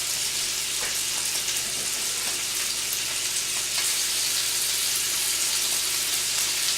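Seafood and steak sizzle in a hot pan, a steady, dense crackling fry that runs close and loud throughout.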